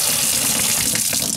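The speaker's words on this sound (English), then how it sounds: "if I push this button, it's going to give me just water" Water runs from a Twist n Fill dispenser in a loud, steady gushing stream, close and continuous like a tap filling a container, with no talk over it.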